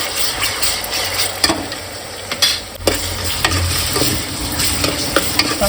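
Onion paste frying and being stirred in a pan for village-style mutton curry, a steady close sizzle with scattered scraping and clattering stirs, no talk.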